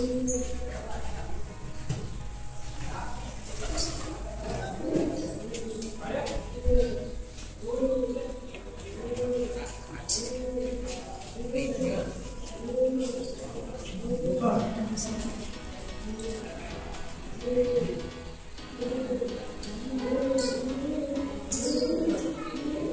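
Pigeons coo inside the main sanctum of an ancient temple at a world heritage site in Gujarat, a soft repeating throaty rhythm that echoes steadily, with faint background murmur.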